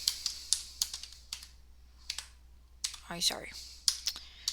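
Rapid bursts of computer keyboard typing, close and clicky, come in irregular clusters with short pauses, and a person briefly speaks partway through.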